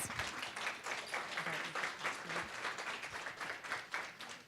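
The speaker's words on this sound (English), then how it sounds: "Can we get a warm round of applause for our ladies?" An audience at a chemotherapy side-effects conference gives a warm, steady round of applause, sustained clapping from a room of people with little talk.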